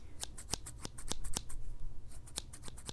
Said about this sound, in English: I also have scissors in case you want me to cut your hair or your eyebrows.